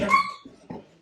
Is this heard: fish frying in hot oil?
no